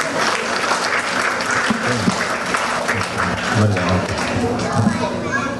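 Sustained applause from a temple congregation honoring volunteers at Sri Varasiththi Vinaayagar temple in Canada during a festival day, steady crowd clapping throughout with voices talking underneath.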